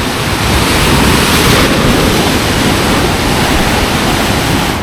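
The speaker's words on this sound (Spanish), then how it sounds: "Está bravito el Mar Negro hoy." Rough Black Sea surf off a former ferry terminal roars in a steady, loud wash of breaking waves, continuous and dense with no voices over it.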